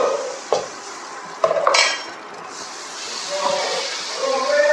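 Appam batter swirled around a hot pan, producing a few light metallic scrapes and knocks with a soft sizzle, close and fairly quiet.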